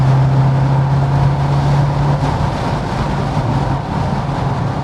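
A twin-turbo Callaway C4 Corvette engine runs under heavy load during a clutch slip test, a loud, steady low drone with a sustained hum that eases slightly toward the end, with no talking.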